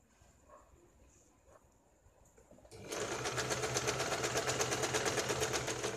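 A sewing machine stitches baby pants, starting after a quiet pause and then running loud and steady with a rapid, even mechanical rhythm right up close.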